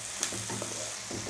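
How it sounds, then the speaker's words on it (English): Red onions frying in olive oil in a pan, a steady soft sizzle with faint crackles and a few light stirring scrapes, close and alone with no talking. "I'm just frying up the onions here because onions make everything taste better"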